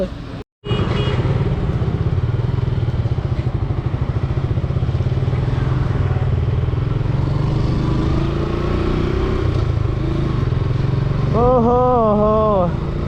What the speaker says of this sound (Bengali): এত রাত্রে আমি বাইক রাইড করি না